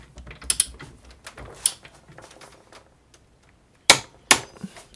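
A Bosch Professional GDR 18V-160 cordless impact driver tightens a bolt up to 80 newton meters, giving scattered mechanical clicks and ratcheting, then two loud, sharp bursts of impact hammering near the end.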